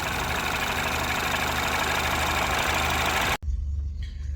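A Citroën DS3 engine idles steadily close up with a blowing exhaust leak at the decat downpipe, a loud continuous rumble that cuts off abruptly near the end, leaving quieter background noise.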